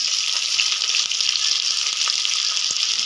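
Onions fry in a kadhai for a chilli chicken dish, giving a loud, dense, continuous sizzle with faint crackles throughout, close and with no talking.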